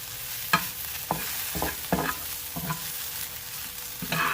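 Small okra frying in a pan with salt, crushed red chillies and green chillies, a steady sizzle broken by regular scraping stirs about every half second, close and with no talk.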